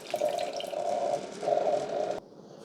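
Water runs from a Keurig K-Iced coffee maker in a soft, steady trickle with a brief dip partway, then cuts off abruptly near the end.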